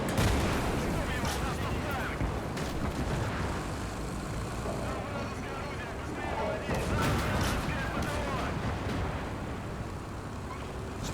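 Battle in the strategy game Gates of Hell, with tanks such as a later-model KV firing alongside guns: dense, continuous rumbling blasts and crackling gunfire, with a voice talking over the din.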